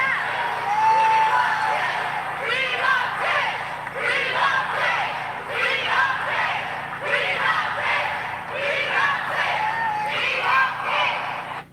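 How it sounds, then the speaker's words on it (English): A large crowd of women cheers and whoops in repeated rising waves, loud and continuous, with shouting voices blending into a dense roar. "notice it's a whole bunch of women cheering"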